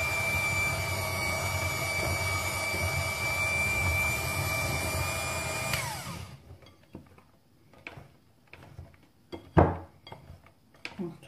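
An electric mixer whirs steadily at low speed while blending icing sugar for peanut butter ghribia, a dense continuous hum for about six seconds that cuts off abruptly, followed by scattered faint clinks and knocks.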